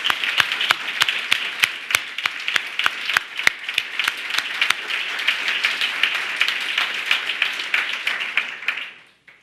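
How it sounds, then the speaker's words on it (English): Applause from a press-conference audience at the Detroit Creative Corridor Center, honoring the 2015–17 Detroit Revitalization Fellows: a burst of sharp claps up front settles into steady, dense clapping that fades out at the end. "Could we please give all of our 2015 to 17 fellows a round of applause?"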